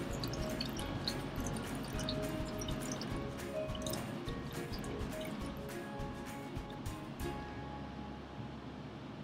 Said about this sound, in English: Just pouring the excess water off.